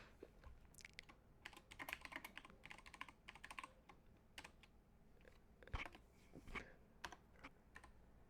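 Computer keyboard typing, a quick irregular run of light clicks and keystrokes, quiet and close with no voices.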